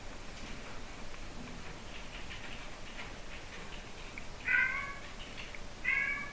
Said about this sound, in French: Excusez-moi pour les chats.